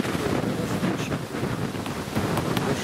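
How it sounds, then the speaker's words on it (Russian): Strong storm wind blows hard and without a break, a roaring gusty rush buffeting the microphone outdoors in the countryside. "Ветер какой."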